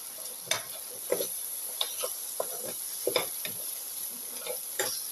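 Chili powder and turmeric are stirred through a frying pan of cumin potatoes, each spoon stroke a close, soft scrape over a low, steady sizzle, repeating in uneven bursts with no voices.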